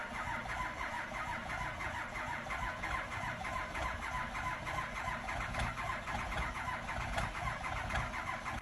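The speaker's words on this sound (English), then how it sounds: "So here we got a 3-degree cold start on a Cummins." A Cummins diesel truck engine cranks and catches on a cold start at 3 degrees, then settles into a loud, rough, rattling idle that runs steadily throughout.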